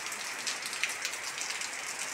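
Steady rain falls on surfaces around a house, a dense even hiss with scattered sharper drop hits, continuous throughout and with no voices.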